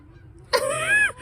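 A single nasal honk rises out of quiet, a drawn-out bird call lasting about half a second, fairly close and clear.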